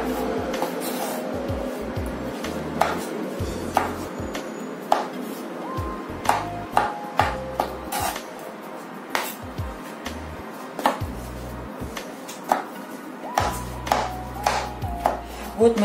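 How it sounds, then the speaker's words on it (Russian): A knife taps steadily on a cutting board in quick uneven bursts, chopping mushrooms into small pieces, with faint kitchen hum behind. "Берем грибочки и будем нарезать их кубиками."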